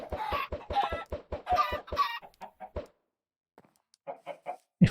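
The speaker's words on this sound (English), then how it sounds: "some chickens here." Minecraft chickens clucking in a quick run of short repeated calls, then a pause and a few softer clucks, with a low thump at the end; no talk.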